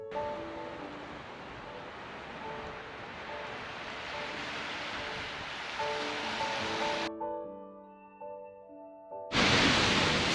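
Rushing water from a waterfall in Mount Rainier National Park in winter makes a steady broadband roar with tonal music over it, which cuts off and then returns loudly.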